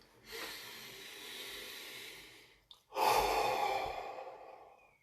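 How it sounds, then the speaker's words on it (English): A person takes a slow deep breath, one long airy breath then a pause and a second, louder breath that fades out gradually. Close and quiet, with no talking. "let's take a deep breath"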